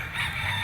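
A brief, faint fragment of a rooster crowing among the chickens at a poultry sale, set against steady background noise.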